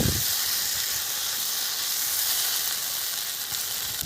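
Raw ground spice paste for a fish curry fries in a pan, giving a steady, close hiss and sizzle that holds evenly throughout with no voices.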